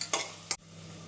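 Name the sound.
sautéing ground masala in a pan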